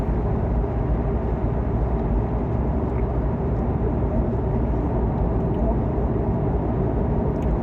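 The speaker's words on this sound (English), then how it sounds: "That's what happens when a Corvette blows its tire." A Corvette rolls on a blown tire at road speed, a loud, dense and steady roar with a rapid rumbling flutter from the shredded tire, continuous and close.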